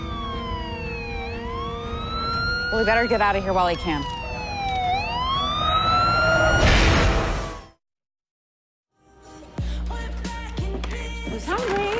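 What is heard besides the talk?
approaching emergency vehicle sirens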